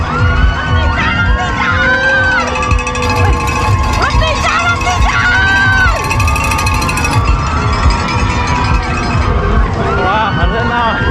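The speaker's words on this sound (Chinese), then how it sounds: "有很多的 supporter 支持者就在路边给我们欢呼加油" Roadside supporters cheering marathon runners beneath a monorail line, a lively crowd of shouts, whoops and excited voices, including children, filling the scene loudly and continuously.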